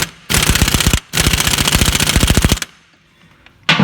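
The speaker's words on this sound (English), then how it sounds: "So now I'll whack this up with the air gun properly on full power." Air impact gun at full power hammering a crankshaft pulley bolt loose on a 2007 Ford Focus 1.6, two loud sustained bursts of rapid rattling blows separated by a short pause, then a brief start of a third burst.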